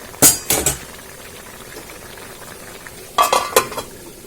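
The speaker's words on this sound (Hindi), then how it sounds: "बीच बीच पे ऐसे ही चलाते चलाते जाऊंगी और ढक के रखूंगी ताकि ये मीट अच्छी तरह से पक जाए" Pork meat stirred while cooking in a pot over low heat: two clusters of quick scraping, clanking utensil strokes against the pot, close and fairly loud, separated by a quiet stretch of soft simmering, without speech.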